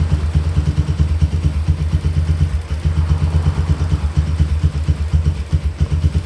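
A Honda Tiger motorcycle engine idles at low RPM close by, its steady low-pitched throb pulsing evenly with a light mechanical clatter and no voices.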